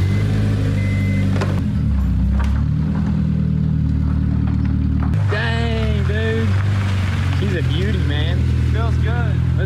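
A Honda S2000 engine cranks and runs, then the car pulls out, a loud steady engine drone with rising revs while someone talks over it.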